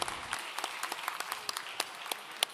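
Scattered audience applause for the Green Slime team after their game, a thin patter of separate claps rising and falling for a few seconds, fairly faint and without talk.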